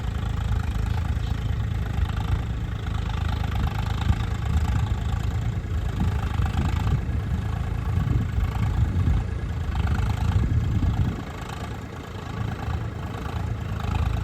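A tractor engine runs steadily while harrowing and puddling a wet, rain-soaked maize field, giving a loud, close, continuous low rumble with light clatter that dips briefly near the end.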